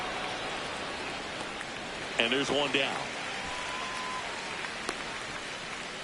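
Steady rain hisses across a baseball stadium in MLB The Show, a constant broadband wash running the whole time beneath a commentator's brief remark and faint crowd or field sounds.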